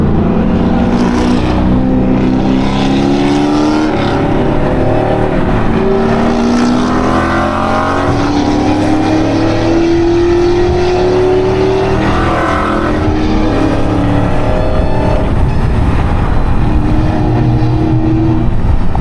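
A Dodge Hellcat accelerating on a highway, its engine droning loudly and steadily with rising pitch sweeps as it pulls through the gears, accompanied by road and wind roar throughout.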